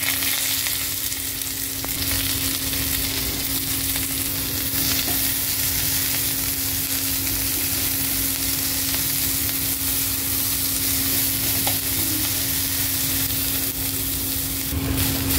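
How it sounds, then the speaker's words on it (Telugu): Onion and green chillies frying in hot oil in a pan for a Telugu ridge gourd and prawn curry, giving a steady, loud, close sizzle with occasional stirring scrapes throughout. "మళ్ళీ ఇవన్నీ జరుపుకొని కొంచెం ఆయిల్ వేసుకొని అందులో ఆనియన్ అండ్ పచ్చిమిర్చి వేయాలి."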